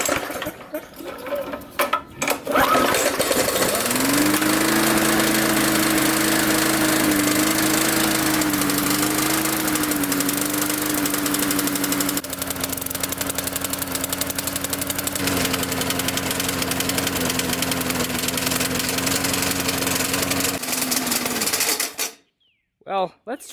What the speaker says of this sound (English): I put some fuel in it, so I'll set the camera up here and we'll see if it wants to start